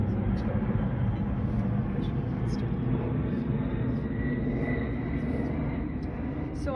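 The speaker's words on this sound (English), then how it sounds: "A lot of planes today." Aircraft fly overhead as a steady, broad low rumble that fills the whole stretch, with faint higher sounds flickering over it.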